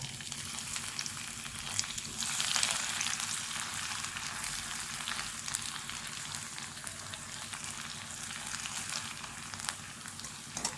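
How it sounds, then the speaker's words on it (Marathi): Cumin and mustard seeds with a spice mix sizzle in hot oil, giving a steady, moderately quiet crackling fry with faint pops throughout and no talking. "आता तेल चांगलं तापलंय मी जिरे मोहरी आणि हा केलेला मसाला"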